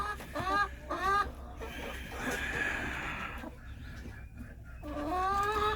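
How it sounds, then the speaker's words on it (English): A silver laced Wyandotte hen clucks in short, harmonic bursts at close range, with a stretch of rustling noise between calls and another run of clucks toward the end. "She's a silver lace Wyandotte."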